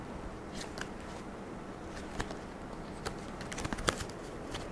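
Tarot cards being shuffled and drawn give off soft, faint papery flicks and scattered crisp snaps, with a small cluster of sharper clicks near the end. There is no talking.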